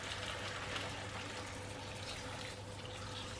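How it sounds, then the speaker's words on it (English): Chicken flavoured stock pours into a soup pot of potatoes and cheese, a steady, quiet liquid rush heard close and alone. "Now add the chicken stock"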